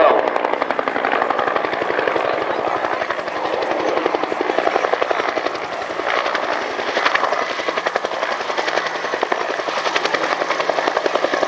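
A Bell UH-1 Huey helicopter flies a solo display at an airshow, its rotor thudding in a loud, fast, unbroken beat that holds steady throughout, fairly close and with no voices over it.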